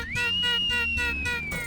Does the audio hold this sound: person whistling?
yes